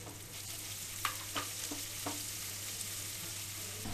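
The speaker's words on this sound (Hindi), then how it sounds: "अब प्याज को भूंजना है इसे भी ज़्यादा नहीं पकाना है बस इसका कच्चापन कट जाए इतना ही देर पकाना है" Chopped onions sizzle steadily in a hot pan while being cooked for dal rice, a soft continuous frying hiss broken by a few light stirring scrapes and clinks, with a low steady hum beneath.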